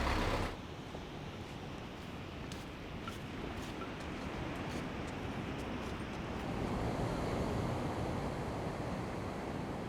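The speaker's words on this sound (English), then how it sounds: "I'm just on my way down to the beach right now." Surf washing onto a beach in Bali, a steady broadband roar of breaking waves with wind noise on the microphone, continuous and fairly close throughout with no talking.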